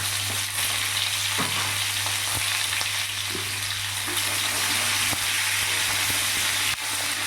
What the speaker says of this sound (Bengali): পটলটাকেও লাল লাল করে একটু ভেজে নেব।